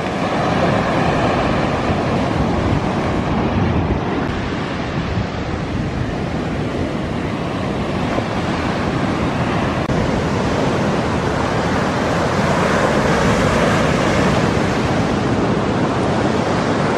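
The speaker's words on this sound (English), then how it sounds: "These waves." Ocean waves roll onto a California beach, a loud, continuous roar of surf mixed with wind buffeting the microphone, with no talking.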